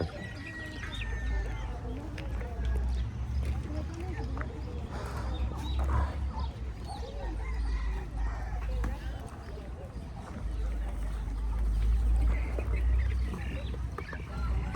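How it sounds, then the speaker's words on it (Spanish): Chickens, turkeys and ducks at poultry stalls on a market day in Tlaxiaco, in Oaxaca's Mixteca region, with scattered clucks and quacks rising over a steady low bustle of crowd noise and indistinct voices. "Todo este lado donde estamos pasando son puros puestos de pollos"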